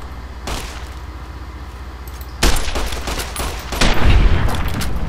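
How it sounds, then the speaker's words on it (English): Gunfire in Fallout: New Vegas, with a burst of shots that opens up abruptly midway and rolls on loud and dense to the end, after a quieter stretch of background game noise. "And let's shoot this guy in the head."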